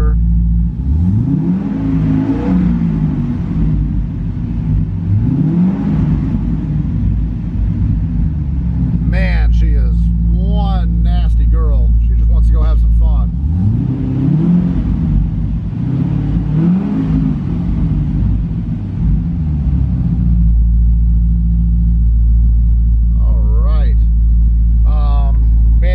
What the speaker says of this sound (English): Really good oil pressure on this motor.